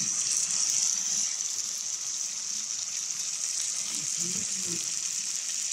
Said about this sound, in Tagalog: Lagyan na po natin siya ng kaunting tubig.